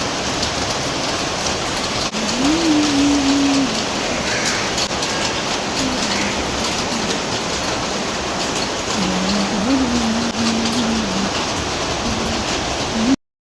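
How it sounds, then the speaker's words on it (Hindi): Heavy monsoon rain pours steadily outside a home, a dense continuous hiss of drops beating on surfaces throughout, with a faint tonal hum rising now and then beneath the downpour. "और अब बारिश देखो।"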